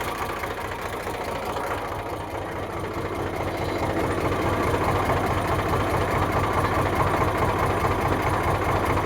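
An Eicher 368 tractor with an air-cooled Ricardo diesel engine idles steadily, a rhythmic low chugging throb that gets a little louder partway through and continues evenly, with no talking.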